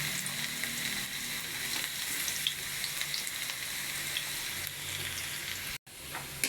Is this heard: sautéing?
yes